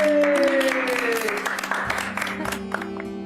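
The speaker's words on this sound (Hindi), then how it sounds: "अब गेस्ट ऑफ ऑनर के लिए तालियां तो बनती है।" An audience breaks into applause for a guest of honor, sustained clapping under a strong tonal music sting and overlapping voices, fading somewhat toward the end.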